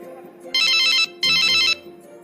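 A phone rings with two loud electronic bursts in quick succession, each about half a second long, close and clear over a low background hum.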